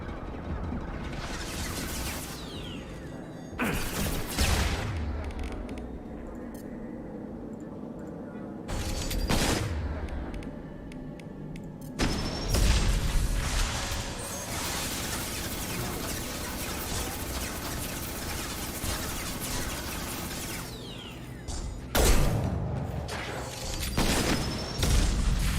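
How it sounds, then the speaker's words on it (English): Grenade launcher firing in Mass Effect 2, several loud booming shots spaced seconds apart against continuous combat noise and rattling gunfire. "if I use the grenade launcher, will that blow out its arm?"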